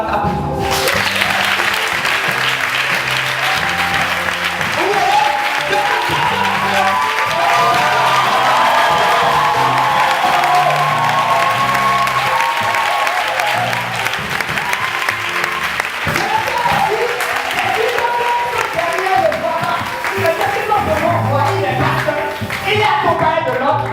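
A church congregation at a testimony service applauds and cheers God loudly and continuously, with sustained clapping, shouts and whoops filling the room throughout, and voices rising within the crowd noise.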